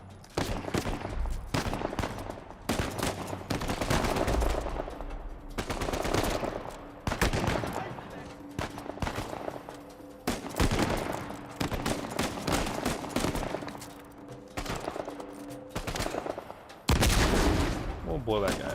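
Video game gunfire and explosions from Uncharted 4, with repeated bursts of shots and blasts throughout, loud and dense, mixed with game music and a voice talking over the action.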